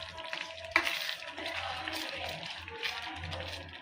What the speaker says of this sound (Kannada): ಈಗ ಇದಷ್ಟು ಚೆಂದಾಗಿ ಮಿಕ್ಸ್ ಮಾಡ್ತೀನಿ